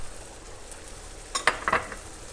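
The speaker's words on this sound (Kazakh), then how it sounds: "Енді қуырамыз." Onion and broccoli frying for a chicken lunch, a low steady sizzle with a few sharp stirring clinks and scrapes in quick succession.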